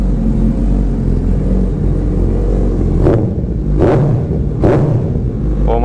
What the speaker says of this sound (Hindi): इट्स सच ए बेसी sound. I love this bike Hayabusa.